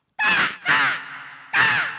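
A performer's voice imitates a local crow, giving three loud, harsh caws close up, the second one drawn out longer, with short gaps between them.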